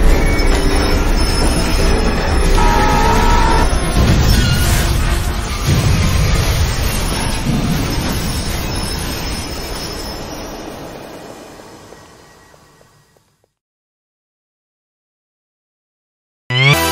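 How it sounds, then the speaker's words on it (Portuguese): A fast train in the Poppy Playtime video game rolls loudly with a steady rumbling roar and squealing wheels, then fades away into silence near the end. "Tenho que descobrir um jeito de parar esse trem rápido."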